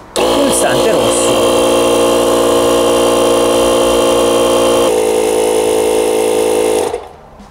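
A battery-powered portable car air compressor, combined with an emergency jump starter, buzzes loudly and steadily with a harsh motor drone, shifts tone midway, then stops abruptly near the end.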